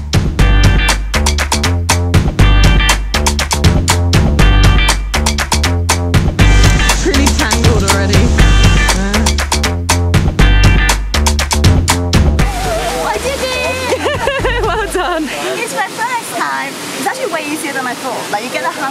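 A loud waterfall in the Dolomites of Italy gives a steady, broadband roaring rush in the closing seconds, after a stretch dominated by rhythmic music.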